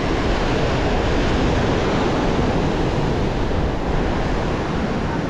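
Storm surf pounds a beach in Crimea as a continuous, loud broadband roar of breaking and churning water, mixed with wind buffeting the microphone.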